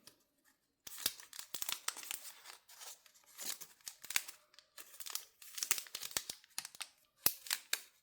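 Scissors snip through accordion-folded paper for a layered poppy flower junk journal craft, a close, crisp run of repeated cuts with crinkling paper in between and short pauses, no talking.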